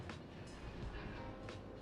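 A fast train runs in the video game Factorio, a steady rushing rumble with faint rhythmic clicking on the rails, continuous and moderately quiet.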